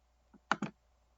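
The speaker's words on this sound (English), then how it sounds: "I'm really bad at typing." A few quick clicks on a computer keyboard in a quiet room: one soft tap followed by two sharper keystrokes close together, near and clear.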